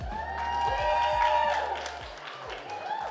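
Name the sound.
audience applause and cheering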